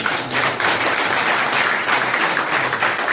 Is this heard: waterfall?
no